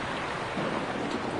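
A dramatized thunderstorm with thunder, hail and drenching rain roars steadily as dense broadband rain, with low rumbling underneath. It is continuous and moderately loud, and no voices are heard.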